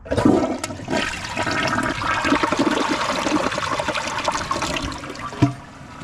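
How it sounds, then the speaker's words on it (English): A Kohler Highline Arc toilet flushes with its handle held down, a loud rushing swirl of water that drains steadily for several seconds and tails off into a trickle, with a brief clunk near the end. "let's see how long it flushes when I hold down the handle"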